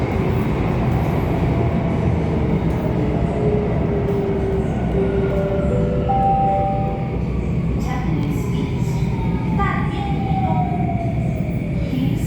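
An SBS Transit Downtown Line C951 three-car metro train runs along the track, a loud steady rumble with rising and falling motor whine and occasional squeals, heard from inside the carriage.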